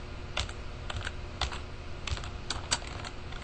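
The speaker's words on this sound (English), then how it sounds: "I don't know why I'm typing your name." Rapid keystrokes on a computer keyboard, quiet irregular clicks in short bursts with small pauses, close and alone without voices.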